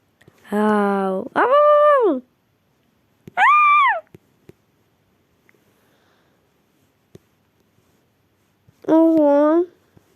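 A dog whimpers in long, wavering high-pitched cries, first two close together, then one more, and a final drawn-out whine after a quiet pause.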